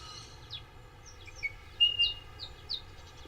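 Several wild birds give short chirps and whistled calls, scattered and fairly faint over a low, steady outdoor rumble, with no voices.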